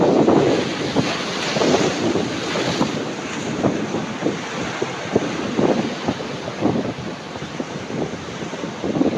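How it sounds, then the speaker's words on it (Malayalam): Ocean waves surge up the sand at Chembarikka beach in Kasaragod, Kerala, a steady close roar of surf with repeated rhythmic swells and wind noise, no voices. "കാത്തിരിക്കാന്ന് പറഞ്ഞപ്പോഴേ നമുക്കിത് ഇവിടം വരെ വെള്ളം കയറിയ ഒരു തിര കിട്ടി"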